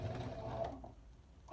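A sewing machine backstitching a French seam, heard as a short, faint mechanical whir that stops partway through and briefly starts again at the end, close up and without voices.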